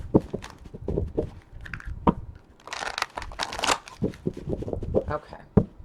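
Thick card-stock tarot cards are shuffled by hand in repeated riffling and crunching bursts, close and fairly loud, with a brief pause midway.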